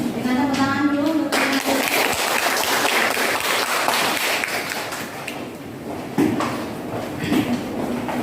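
Classroom applause from students greeting the first group's presentation, a burst of clapping with knocks and thuds of desks, voices and chatter mixed in, fading midway then briefly rising again.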